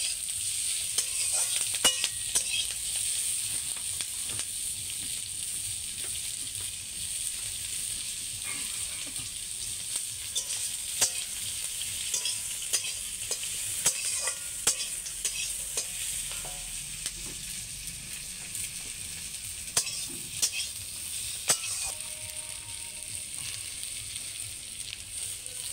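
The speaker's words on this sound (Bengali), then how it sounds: "আগে এটা ভালো করে ভেজে নিতে হবে।" Food being fried and stirred in a pan over a wood fire, a steady close sizzle with scraping stirs and small clicks running throughout, no talking.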